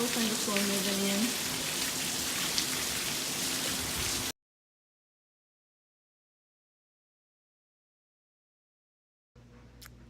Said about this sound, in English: nice little bit of rain, little thunderstorm moving in